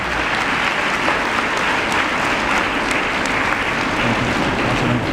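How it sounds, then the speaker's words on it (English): Audience at a graduates' association ceremony giving sustained loud applause for top-ranking students, a thick, even roar of many hands clapping with no pause. "Please give a big applause for all the top rankers."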